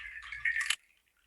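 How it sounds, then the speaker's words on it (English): Ayoyote seed-pod percussion rattles are shaken close to a microphone, giving a bright, watery, dripping patter that builds for under a second, then stops abruptly into near silence. "These are actually ayoyote percussion things, but but to me, it can sound like water"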